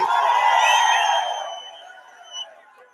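A crowd at a political rally in Hosur cheers and shouts loudly, with one brief swell before the roar trails off into a thinner, fading murmur.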